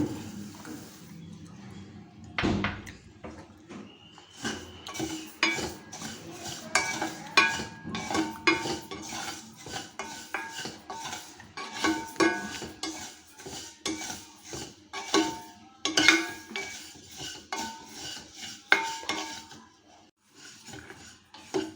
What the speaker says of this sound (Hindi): अब हम इन तीनों चीज़ों को एक एक करके थोड़ा थोड़ा रोस्ट कर लेते हैं।